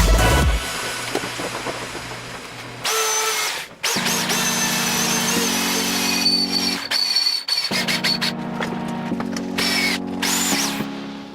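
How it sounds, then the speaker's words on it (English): A power drill boring holes for a seat bracket in a Mazda Miata runs in several bursts, whining up and cutting out between passes, loud and close with brief pauses. "we'll just make sure to drill the other one"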